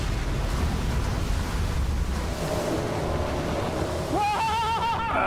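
An ocean wave crashes over a fishing boat near St. Paul Harbor, a loud continuous roar of surf and wind, with a brief rising tonal whine near the end.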